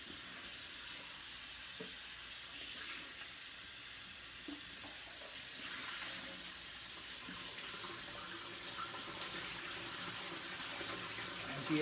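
Tap water runs steadily into a sink to soak organic greens, a continuous hissing splash that grows slightly fuller as the basin fills, with no voices.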